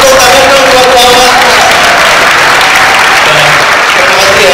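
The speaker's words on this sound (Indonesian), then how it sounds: "Tepuk tangan dong buat Muhammad." Loud, dense audience applause for a man named Muhammad fills the whole stretch, steady clapping from a crowd with some voices mixed in.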